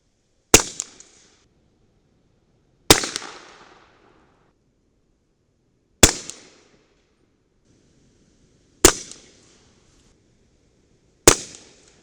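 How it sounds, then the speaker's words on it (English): Five sharp rifle shots from a 300 Blackout rifle crack out one at a time a few seconds apart, each a loud, close report with a short fading tail and silence between. "So let's crank out this first 5-shot group."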